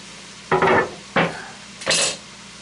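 Diced garlic stirred in sausage grease in a pan for swamp soup: three distinct scraping strokes of a utensil against the pan, close and moderately loud, separated by short pauses.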